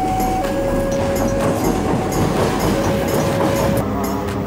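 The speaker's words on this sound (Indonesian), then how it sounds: "Nampaknya ini kereta lokal" A local train rumbles steadily nearby, with wheel noise and a sustained high squeal as it rolls slowly into Rancaekek station.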